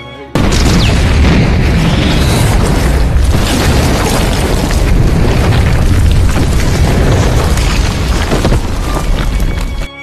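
A bomb vest detonates in the film The Hurt Locker: a sudden massive boom erupts into a sustained, roaring wall of blast noise and debris that stays loud for nearly ten seconds.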